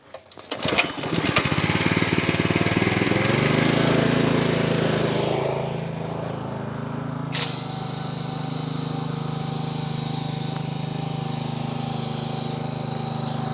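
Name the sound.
pressure washer spraying soap on a Polaris off-road vehicle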